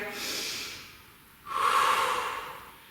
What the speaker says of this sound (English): Hold it there, and you're just going to take a deep breath.